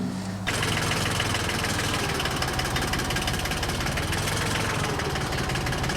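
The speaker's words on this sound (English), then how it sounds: "Diesel. Powered hydraulic automatic engine lifter." A diesel-powered hydraulic automatic engine lifter, used while restoring a 1926 Ford Model T engine, starts up abruptly and then runs at a steady, loud, throbbing idle close by for several seconds, with no talking over it.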